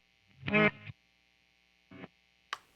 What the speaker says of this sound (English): Reverse delay.